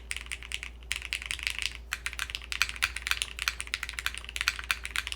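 Rapid typing on a modded mechanical keyboard, a Cinque 55 by Tea House, with a brisk run of close, crisp keystrokes, a brief pause, and then more steady clacking.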